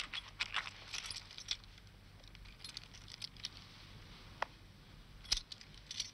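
Keys jangle in a pocket in the 1971 film Wake in Fright, faint metallic clinks and rattles scattered irregularly over several seconds with no voices.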